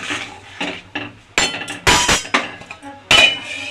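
Metal lid set onto a cooking pot of sweet potato chutney, a series of sharp clinks and clanks of metal on metal, close and loud, with quiet gaps between the hits.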